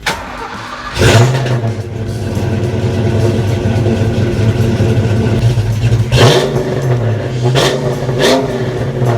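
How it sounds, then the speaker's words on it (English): A car engine idles with a steady low rumble, broken by several sharp revs that rise and fall, loud and close. "he was kind enough to send us a video of the engine running"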